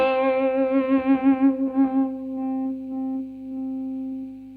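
A Behringer Fuzz Bender fuzz pedal on electric guitar gives a sustained, harmonically rich distorted note that wavers and pulses, then settles into a steadier, thinner held tone as the volume changes, with no voices.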